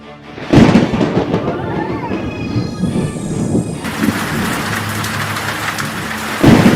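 Heavy rain pours steadily over a tomato farm field, loud and continuous, with deep rumbling thunder bursts near the start and again at the end.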